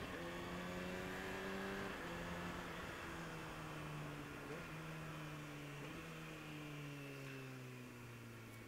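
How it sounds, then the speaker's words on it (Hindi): A Kawasaki ZX6R on the move shifts up through the gears with its quick shifter. A steady engine drone drops in pitch at each quick, smooth change, faint under constant wind rush. "Such a smooth quick shifter."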